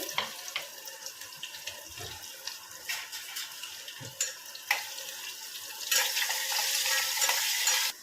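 Potatoes cooking in hot oil make a soft, uneven sizzle with scattered pops and stirring clatter nearby. Toward the end the sound swells into a louder, steady hiss that then cuts off.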